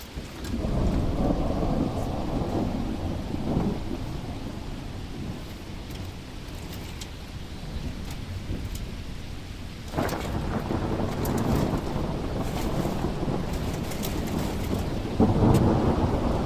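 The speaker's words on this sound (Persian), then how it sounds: "بارون نزد الان به بارون میزنه." Heavy rain pours steadily outdoors during a flood while thunder rolls through it, with a deep, loud crash near the ten-second mark and another burst building toward the end, and no one speaks.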